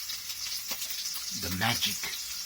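German white sausage frying in oil, a steady bright sizzle and crackle throughout, with a voice briefly talking over it midway.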